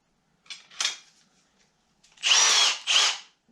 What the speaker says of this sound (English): Just grab my drill here.